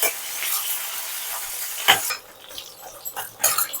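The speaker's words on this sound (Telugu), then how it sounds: "ఇప్పుడు ఒకసారి ఇలాగా కలిపేసుకుందాం." Sliced onions and green chillies are stirred in a hot pan while making gongura oil. A hissing sizzle fills the clip, broken by a few brief scrapes and clinks of a utensil against the pan.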